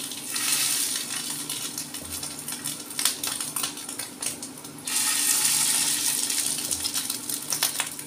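Egg fritters sizzling in hot oil, a steady crackling fry that briefly drops back then swells again as more batter goes in, close and continuous with no talk.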